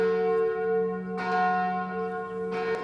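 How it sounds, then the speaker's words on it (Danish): Church bells ring steadily with sustained, humming tones, and fresh strikes land twice, clear and fairly close, with no talking. "Jeg kunne også høre klokkerne"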